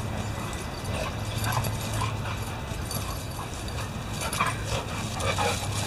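A dog chews and tugs on a toy or fabric nearby while playing and wrestling, producing irregular soft gnawing, scuffling and clicking sounds throughout with no talk.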